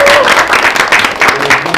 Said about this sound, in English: Can we have a round of applause for our organizers?